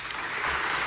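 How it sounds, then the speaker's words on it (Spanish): Audience applause for the panel closing an international judicial ethics seminar, a short burst of clapping that swells slightly and holds steady, moderately loud in a hall. "Un aplauso fuerte, como se escucha, para el panel"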